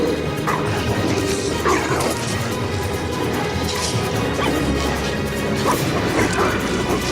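Cerberus, the hound of the underworld, barks, yelps and whimpers over constant crashes and thwacks as Hercules fights it bare-handed. The sound is a loud, dense, chaotic staged battle.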